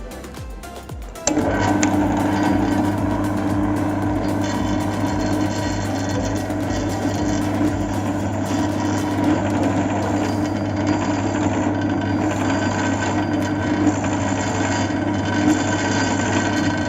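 A drill press bores into plastic clamped in a vise, running at high speed: a steady, loud whine with a constant motor hum starts after a brief moment and continues unbroken, with no talking.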